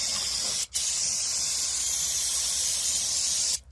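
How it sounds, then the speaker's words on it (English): Brake parts cleaner hissing steadily from an aerosol can onto a drum brake on a 2007 Ford Taurus, two loud continuous sprays broken by a brief pause near the start and ending near the close. "Time for a little bit of dual wielding brake cleaning action."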